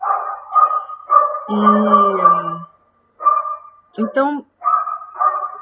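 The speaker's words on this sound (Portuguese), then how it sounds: "os cachorros estão demais, né?" Several dogs bark repeatedly in short bursts, loud and close, with yips and a whimper between them, while someone speaks over the noise.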